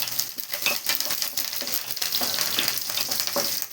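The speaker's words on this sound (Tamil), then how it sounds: "கருவேப்பிலை போடலாம்." Curry leaves crackle and sizzle in hot oil with frying mutton sukka, a close, dense hiss broken by stirring and pops throughout, without speech.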